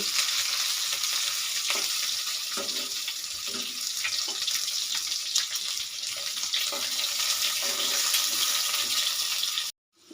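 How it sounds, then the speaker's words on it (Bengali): Eggs and potatoes fry in a pan as a continuous bright sizzle, with faint scraping and stirring sounds scattered through it, close and moderately loud, then cut off abruptly at the end. "এই পর্যায়ে বন্ধুরা ডিমগুলো এবং আলুগুলো এভাবে ভাজা হয়ে গেলে বাদামি কালার হয়ে গেলে"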